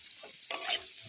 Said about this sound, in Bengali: এবার আমি পেঁয়াজটা একটু ভেজে নেব।